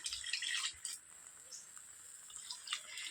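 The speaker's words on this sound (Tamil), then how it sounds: "இப்போ நான் ஆல்ரெடி கரைச்சி வடிகட்டி வச்சுருக்கிற அந்த புளி கரைசலை ஊற்றுறேன்" Strained tamarind water poured into a fish curry in a home kitchen, a soft continuous splashing trickle with small drips and bubbling, fairly quiet and heard alone.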